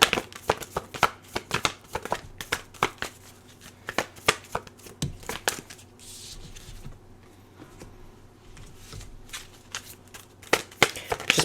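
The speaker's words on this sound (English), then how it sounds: "Just pulling some oracle cards for you here" Oracle cards shuffled by hand during a reading, a quick run of crisp riffling flicks and soft slaps, fairly close, pausing briefly midway before resuming.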